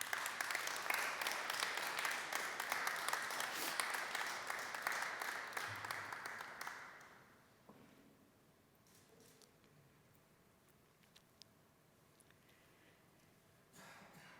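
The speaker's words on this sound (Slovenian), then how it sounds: "Naš naslednji zlati aplavz pa je namenjen docentki doktorici Saneli Pivač." Audience at an indoor nursing and midwifery awards ceremony applauding steadily for about seven seconds, then the clapping fades into quiet room tone with faint scattered noises.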